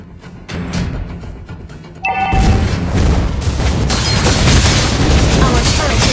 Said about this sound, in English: Lava burst!